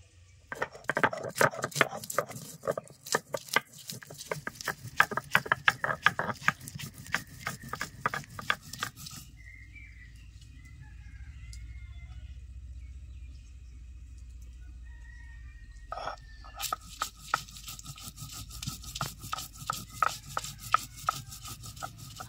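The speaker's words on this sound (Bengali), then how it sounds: "এখন কাঁচা লঙ্কা আদা বেটে নিচ্ছি" Green chili and ginger being ground into paste on a stone, rhythmic close rubbing and thudding strokes that pause midway and then resume, with a rooster crowing faintly in the background.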